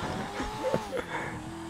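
Car crash in GTA V on PC, a short burst of engine roar with tire noise and a dull impact over a steady driving hum, loud and close.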